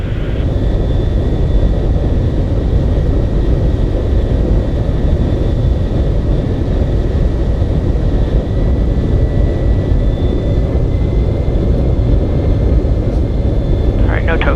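Steady, loud engine and wind roar inside the cockpit of a C-17 Globemaster III during low-altitude flyovers, constant and dense throughout, with radio and crew voices faintly beneath.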